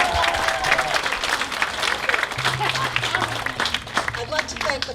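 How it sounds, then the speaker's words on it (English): A crowd at an outdoor summer community band concert applauds loudly and continuously, with some voices and cheering mixed into the clapping. "Give yourselves a round of applause."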